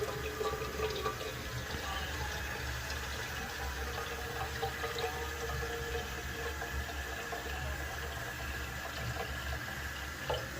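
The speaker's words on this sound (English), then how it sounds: "I'm going to go ahead and put in some water." Tap water runs steadily into a whistle tea kettle in a home kitchen, a continuous splashing fill at close range with no talk over it.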